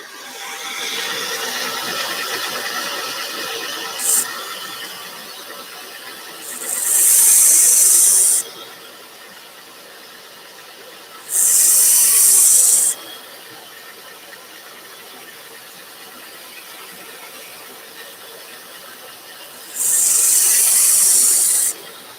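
A tool sharpened flat against the platen of a 1x30 belt grinder with dust collection, heard as a constant belt hiss broken by three loud, bright grinding bursts of one to two seconds each.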